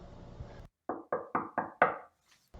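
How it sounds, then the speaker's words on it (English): A run of five sharp, evenly spaced knocks on a door rings out after a brief pause, followed by quiet. "an elderly couple heard the sound of 3 knocks at the door"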